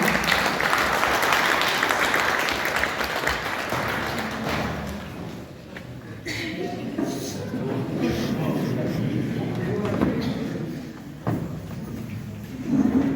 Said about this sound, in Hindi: कृपया तालियों से स्वागत करें और तालियों की कमी न होने दें